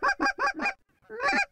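Geese honk during a waterfowl hunt, four loud rhythmic honks in quick succession, a short pause, then a longer drawn-out honk, close and clear.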